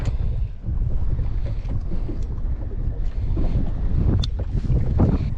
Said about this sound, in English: Just get out of the wind a little bit.